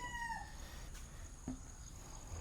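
A chicken calls with a short rising cluck near the start, then a few quieter clucks over a soft farmyard background.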